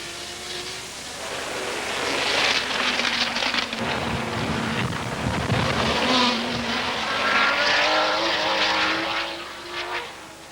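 Racing cars on the twisting Brands Hatch circuit in the 1970s, including big Group 5 sports cars on a wet track, roar past in sustained, loud engine noise that swells and fades across the whole stretch with no talk.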